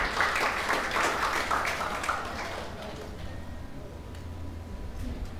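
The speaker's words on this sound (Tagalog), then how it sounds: "Parang naubos na ata ni Mark ang palakpak nyo" Congregation applause at a church service, loud and dense clapping for the first two seconds that then thins and fades into a quieter room murmur.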